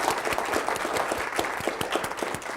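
An audience at an IT Tech Day event applauding, a steady patter of many hands clapping heard from a distance, fairly soft and without any talk.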